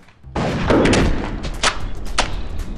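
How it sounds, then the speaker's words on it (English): A big explosion of a shark in a video game bursts as a loud blast followed by a scatter of sharp cracks and thuds over a couple of seconds. "This is gonna be the biggest shark explosion you've ever seen."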